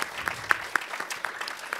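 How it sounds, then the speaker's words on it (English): An evening audience at a Q&A welcomes Raphael Colantonio of Arkane Studios with applause, individual hand claps standing out sharply and repeatedly over a softer bed of crowd clapping. "I'd like to hear a huge round of applause for our guest for this evening, Raphael Colantonio from Arkane Studios."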